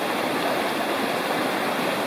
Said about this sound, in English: This is Lost Cove Creek, going on down to join the Harper Creek